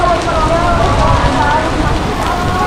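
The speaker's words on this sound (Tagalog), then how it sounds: "Grabe lakas ng ulan o." Heavy rain pours outdoors near Bugis Junction in Singapore, a steady dense wash of noise with no breaks, loud and close, with a voice faintly under it.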